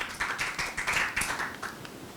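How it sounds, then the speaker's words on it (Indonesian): A small group in a classroom claps in a quick, rhythmic pattern of short bursts. The claps are fairly soft, close and mostly free of talk. "Tepuk tangan dulu buat kalian,"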